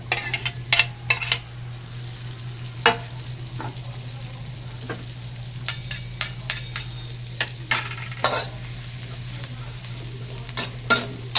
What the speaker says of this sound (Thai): ผัดหอมกับกระเทียมสับ นะครับกับเนยให้สุกใสก่อนเลยนะครับ